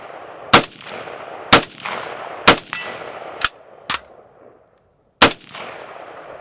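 An ODS-1775 Space AK-47 fires six separate sharp, loud shots with uneven gaps of about a second, each followed by a short ringing decay and faint background noise between them.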